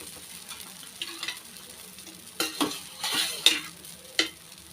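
Adai batter cooking on a dosa pan gives a faint, steady sizzle with a few louder bursts of frying and light scraping partway through, with no talk.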